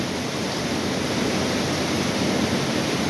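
Heavy monsoon downpour in Udhna, Surat, Gujarat: a dense, steady roar of rain pouring hard and close, with no breaks or voices.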